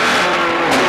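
Toyota rally car pulling away at the start of a rally special stage, a loud, close engine roar held steady for under a second.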